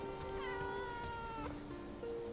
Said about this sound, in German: Ich habe gerade eine Katze gehört.